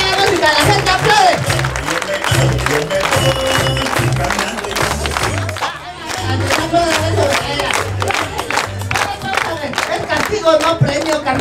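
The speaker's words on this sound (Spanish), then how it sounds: "Y mira cómo la gente aplaude." A street crowd on Avenida Juárez claps and cheers at an outdoor comedy show, a loud, busy wash of applause and shouts over a thumping rhythmic music bed, with voices calling out throughout.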